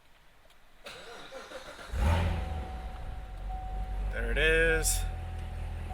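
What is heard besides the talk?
Corvette C7 Z06 engine starting and revving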